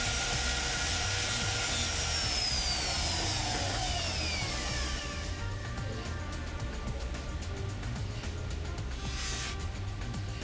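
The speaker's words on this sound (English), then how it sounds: "some work with the abrasive wheel to bring up the contrast and polish in a few of the surfaces" An abrasive wheel polishes the surfaces of a cast piece: a continuous close scratchy rubbing and grinding that holds steady throughout, with a brief rising squeal partway through.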